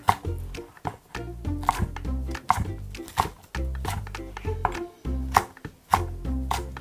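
A knife chops green onion on a cutting board for nabak kimchi, giving a steady run of crisp, close, evenly spaced thuds with brief pauses between bursts.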